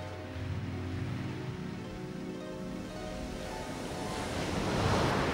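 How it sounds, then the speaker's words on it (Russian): Sea waves surging and breaking steadily, swelling louder toward the end as the water grows rougher, with a low rumbling wash and no voices. "Видит, море слегка разыгралось."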